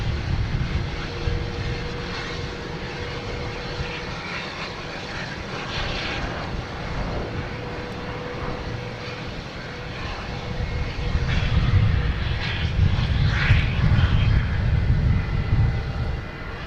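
An American Airlines jet airliner at Boston Logan Airport, its engine roar steady and moderately near, swelling louder toward the end with no talking.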